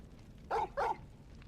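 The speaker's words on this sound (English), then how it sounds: "Bork. The dog says." A dog in the video game Final Fantasy XVI gives two short, close barks in quick succession over low background hum.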